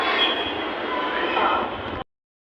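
A metro train's steady broadband rumble and hiss, loud and close, running continuously for about two seconds before cutting off abruptly.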